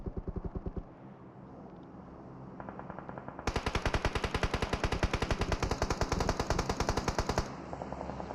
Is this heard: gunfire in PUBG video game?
yes